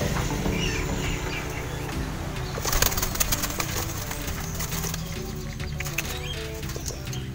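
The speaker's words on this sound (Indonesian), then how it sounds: "burung merpati hutan yang ada di dalam sini semuanya hasil tangkapan, hasil jerat ya." Soft, repeated cooing of captive wood pigeons amid a busy background of fluttering, scratching and faint rustling, with a brief burst of flapping near the middle.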